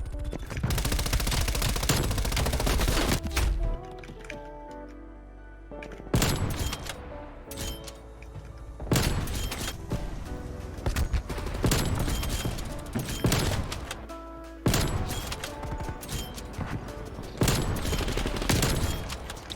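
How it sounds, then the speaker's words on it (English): Rapid bursts of gunfire from the video game Call of Duty Cold War, loud and near, coming in dense repeated volleys with brief lulls between them. "I just need to keep shooting no matter what."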